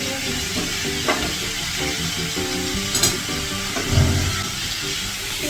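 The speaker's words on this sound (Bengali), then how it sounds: "পেঁয়াজটা একটু লাল লাল করে ভেজে নিই" Onions frying in a pan while someone cooks, a steady close sizzle with faint stirring and utensil clinks throughout and no talk.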